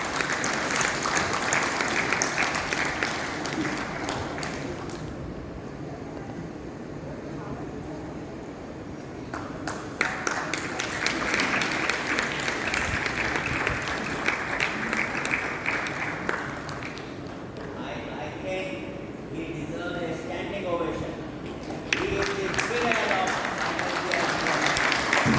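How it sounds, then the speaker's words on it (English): Sustained applause fills the room at an annual meeting awards ceremony, steady clapping that dips and swells over about twenty-five seconds, with a few brief pauses and faint sounds between bursts. "Give him a big round of applause."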